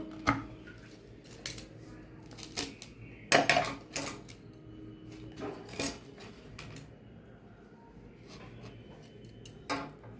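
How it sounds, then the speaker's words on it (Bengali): A knife cuts peeled mangoes for pickle, giving scattered sharp taps and clicks against a board at an irregular pace, close and fairly quiet. "এবার আমগুলোকে আমি এভাবে কেটে নেব।"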